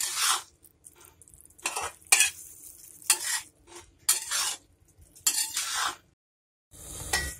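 Chicken being stirred in a kadhai, a spoon scraping and clinking against the metal in repeated bursts over a soft sizzle, with short pauses between strokes and no talking.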